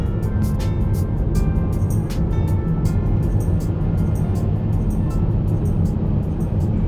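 Car cruising along a road through Georgia countryside, a steady, loud low rumble of engine and tyre noise filling the whole stretch with no breaks.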